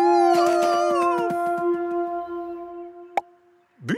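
Cartoon wolf giving a long, loud, sustained howl that holds a steady pitch before fading, followed by a brief sharp knock and a short rising yelp.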